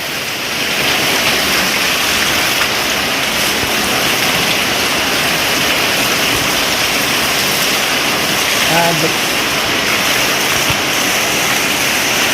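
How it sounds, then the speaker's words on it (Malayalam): Heavy monsoon rain pours steadily and close by, a dense, unbroken wash of hiss and splatter lasting throughout, with no pauses or letup in intensity. "നല്ല മഴയായ വീഡിയോ ആണ്"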